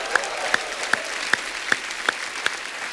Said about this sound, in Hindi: और एक बार तालियां और बनती है